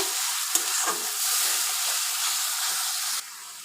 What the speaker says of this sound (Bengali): ভালো করে মশলাগুলো ভেজে নিব